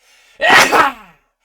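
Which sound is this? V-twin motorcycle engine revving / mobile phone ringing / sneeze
sneeze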